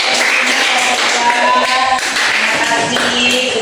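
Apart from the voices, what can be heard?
applause for group 1 in a classroom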